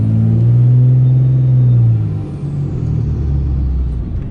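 A diesel pickup truck engine tuned with a Smarty tuner, under light throttle while driving: a loud, steady low rumble that eases off partway through, with no talk.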